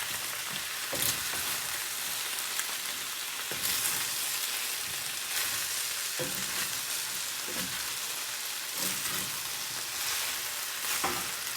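Broccoli frying in a cast iron skillet for a chicken cashew stir fry with ginger, a steady loud sizzle throughout, broken by occasional scraping stirs and clinks, no voices.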